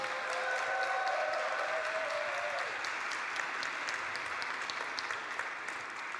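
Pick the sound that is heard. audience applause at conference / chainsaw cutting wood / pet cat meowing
audience applause at conference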